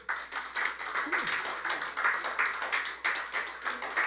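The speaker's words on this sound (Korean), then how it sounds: "박수 한번 보내주십시오." A small audience at a university lecture claps briefly after a request for applause, rhythmic hand claps close and steady for a few seconds, then tapering off with no talk over them.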